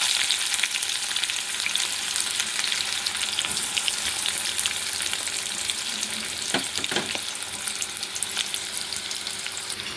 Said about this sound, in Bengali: পেঁয়াজটা আমাদের অল্প ভাজা হয়ে গেছে